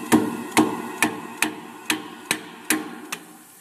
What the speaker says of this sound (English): you just tap them really lightly with a dead blow until you hear this kind